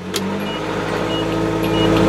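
Straight-piped 1986 or 1994 Ford or Nissan engine, catalytic converter still fitted, running steadily after a cold start with a low, continuous exhaust drone that swells slightly toward the end.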